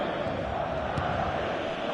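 A stadium crowd in eFootball 2025 roars steadily, a broad sustained wash of cheering that fills the whole moment without letup.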